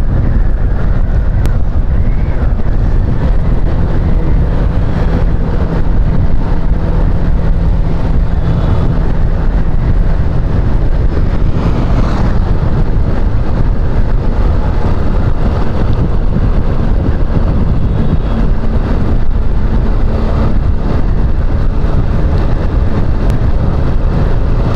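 On a slow motorcycle ride along a highway, loud, constant wind roars and buffets the microphone, and any engine sound is buried beneath it.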